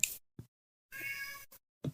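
A cat meows a couple of times indoors, short close cries separated by silence, one longer drawn-out meow in the middle, with a few soft brief bumps around them.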